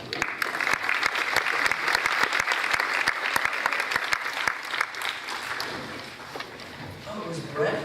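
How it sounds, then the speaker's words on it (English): Audience applause at a school small-ensembles jazz concert, dense sustained clapping from a crowd that thins toward the end, with some voices mixed in. "Give them a round of applause."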